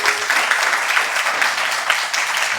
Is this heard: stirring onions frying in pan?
no